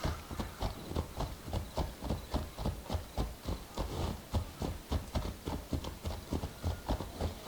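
Horse hooves clip-clop in a brisk, even gallop rhythm during riding in Assassin's Creed Odyssey, with steady repeated thuds throughout.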